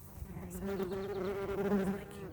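A steady buzz of bees on borage flowers in a garden drones close by for the whole stretch, continuous and fairly loud, with no voices.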